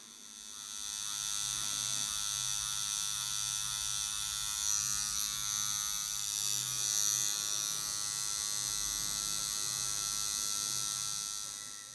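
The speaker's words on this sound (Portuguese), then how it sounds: "Sempre que eu trabalho com a máquina, jogando ela no sentido oposto, é porque eu quero que pegue menos tinta na pele." A tattoo machine buzzes steadily and closely for about twelve seconds while working colour shading into skin on a Woody from Toy Story tattoo, with a constant high electric hum and no speech.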